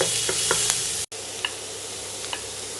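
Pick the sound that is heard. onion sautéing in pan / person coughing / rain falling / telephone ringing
onion sautéing in pan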